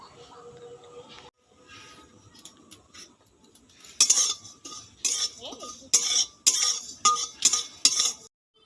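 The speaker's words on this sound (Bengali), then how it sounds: "এখানে আমি শুকনো কড়াইয়ে কালো জিরে ও মৌরি ভেজে তুলে নিলাম।" Black cumin and fennel seeds dry-roasted in an empty karai: a quiet stretch of soft handling gives way to about six loud, evenly spaced metallic scrapes and clinks of a spatula stirring against the pan.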